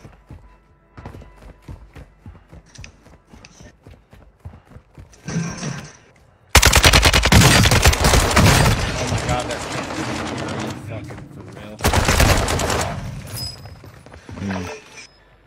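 Gunfire in a shooter video game, sparse shots at first, then loud sustained automatic bursts in two long stretches, with a player talking and game radio voices between them.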